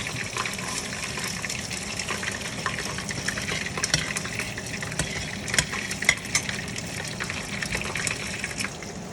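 Cumin seeds fry in hot oil for a gravy, a steady crackling sizzle with scattered sharper pops throughout, close and continuous with no talking.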